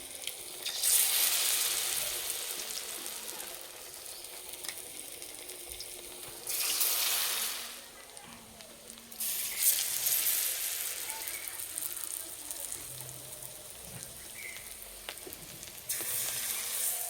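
Egg puri battered and frying in hot oil, a steady hiss and sizzle that swells in louder bursts and then settles, close up with no talking.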